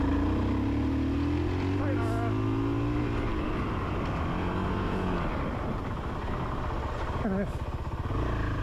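A trail bike on a dirt trail, its engine note rising and revving as it accelerates, loud and close, with wind noise and brief speech over it.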